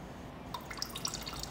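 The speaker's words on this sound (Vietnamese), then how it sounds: "mình lắng tai mình nghe nước chảy róc rách" Faint water trickling and dripping inside an abandoned house, with scattered small bright drips over a low background hiss.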